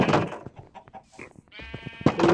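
Sheep bleating in a blocky sandbox video game, a couple of short wavering bleats close up, mixed with other brief game sounds.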